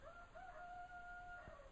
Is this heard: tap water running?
no